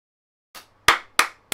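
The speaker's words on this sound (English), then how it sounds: "Round of applause." Four sharp, close handclaps in an irregular rhythm after a moment of silence, each a crisp isolated slap with a quick decay.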